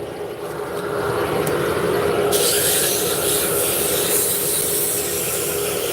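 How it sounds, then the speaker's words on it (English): Scroll-saw cut wooden pieces for drop spindles are sanded by hand with medium grit, making a steady, close, continuous scratchy rubbing with no talk. "So I will sand them out."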